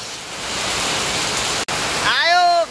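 Heavy monsoon rain pours down in a steady, dense roar that fills the whole stretch, and a voice starts speaking over it near the end.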